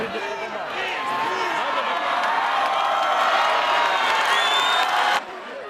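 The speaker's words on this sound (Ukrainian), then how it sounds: "під вигуки і оплески" A crowd shouts and cheers with applause mixed in at a street rally over the renaming of Kirovohrad, a dense, loud, sustained roar that drops off sharply near the end.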